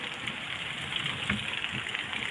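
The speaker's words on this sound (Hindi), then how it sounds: "बहुत ही खूबसूरत बारिश हो रही है" Steady rain pours outside a village house, a dense continuous hiss with occasional heavier patters and splashes, close and uninterrupted, with no talking.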